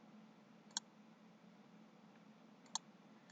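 Two sharp computer mouse clicks, about two seconds apart, sound faintly over a quiet low hum while working in GeoGebra.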